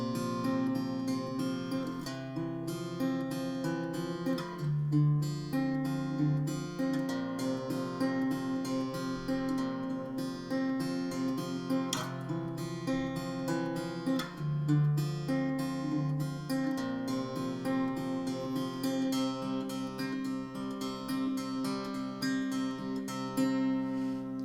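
Guitar playing the chord progression of a song, a full strummed passage with steady rhythm, close and clear, running continuously without talk.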